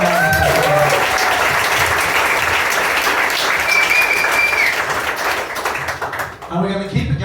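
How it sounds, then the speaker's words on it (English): Sustained audience applause at a stand-up comedy show in Melbourne, dense and steady clapping filling the room for several seconds before thinning out near the end, with some voices mixed in. "Please, just another round of applause."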